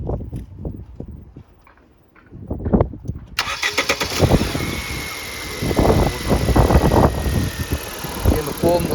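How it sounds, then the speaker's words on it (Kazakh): A car engine being started after its fuse contacts are held in by hand, cranking and catching into a loud, steady run that continues to the end, with people talking nearby over quiet footsteps at first. "Енді көлікті оталдырып көреміз."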